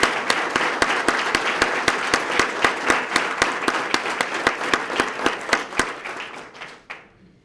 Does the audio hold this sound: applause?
yes